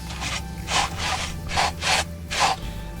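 A boot is dragged back and forth across a deck-mounted boot brush outside a camper, giving five rhythmic, close, bristly scraping strokes with short pauses between them.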